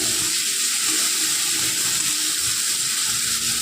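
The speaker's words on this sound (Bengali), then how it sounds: "এবার এর মধ্যে দিয়ে দেবে একটু সামান্য জল, যাতে মশলাটা নিচ থেকে ধরে না যায়।" A small splash of water hits spice paste frying in a pan for a rohu fish dish, setting off a steady, loud hiss and sizzle that fills the whole moment.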